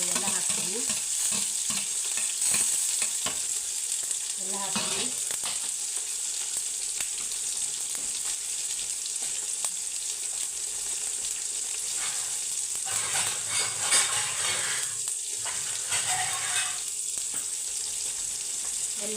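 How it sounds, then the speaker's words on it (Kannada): Tomato, green chili, onion and curry leaves fry and get stirred in a pan, giving a steady close sizzle with intermittent scraping and stirring clatter throughout. "ಒಂದು ಸ್ವಲ್ಪ ಫ್ರೈ ಆಗಲಿ"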